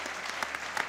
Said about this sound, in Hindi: एहतशाम के लिए तालियां होनी चाहिए मेरी जान